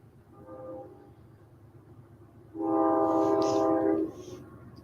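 A train rolls past with a low rumble, then sounds a loud sustained horn blast for about a second and a half before it fades back to the steady rumble.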